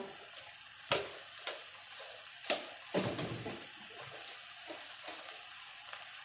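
Stir-frying in a small amount of oil for a dish of clams with chili paste: soft steady sizzling under irregular scraping and knocking stir strokes, close and moderately quiet, with no talk.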